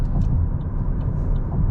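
A car drives slowly and smoothly onto an expressway ramp, a low, steady engine and road rumble heard from inside the cabin with no voices.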